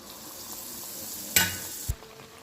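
Rava paniyaram cooking in hot oil in a paniyaram pan, a faint steady sizzle with a brief sharper crackle and a low knock near the end, no talking.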